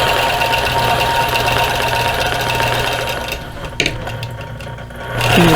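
A sewing machine stitches in the ditch on a quilted cactus basket wall hanging, running as a steady close whir that pauses briefly with a small clack before starting up again.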